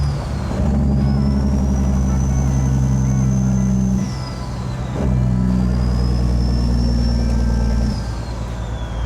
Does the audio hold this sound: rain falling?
no